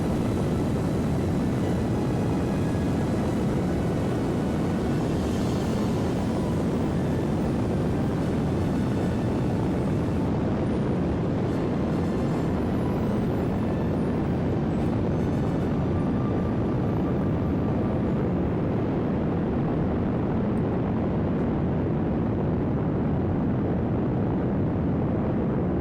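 Solid rocket engines thrusting in the video game Kerbal Space Program 2: a continuous, loud, broadband roar that holds steady throughout, with the highs thinning slightly midway, no talk.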